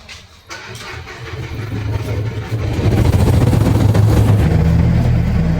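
A generator engine cranks and catches, then its rumble builds and settles into a loud, steady running drone, close by, with no talking over it.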